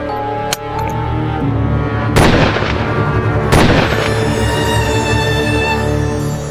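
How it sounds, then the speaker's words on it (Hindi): Gunshots ring out in a forest scene of the Indian crime drama Crime Patrol: three sharp, loud cracks spaced a second or more apart, each leaving a rumbling tail over steady background noise. "गोली चलाओ।"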